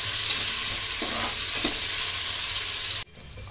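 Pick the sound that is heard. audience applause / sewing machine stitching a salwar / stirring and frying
stirring and frying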